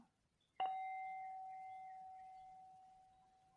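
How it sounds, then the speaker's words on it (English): A single meditation bell is struck once, ringing a clear sustained tone that slowly fades into silence. "opening to receive the sound of the bell."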